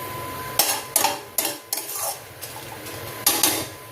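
Mango chutney ingredients sautéing in a pan, with a series of distinct metallic clinks and scrapes of a spoon against the pan over a faint sizzle, close up.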